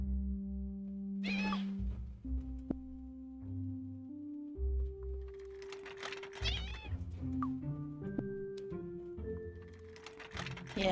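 Cat meows from the Agatha Knife video game repeat several times, clear and up front over sustained synth music tones, without any talking.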